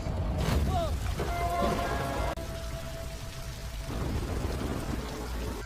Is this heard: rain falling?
yes